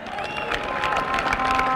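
Crowd at a political rally in Malava applauding and cheering, a dense steady wash of clapping and voices with no pauses.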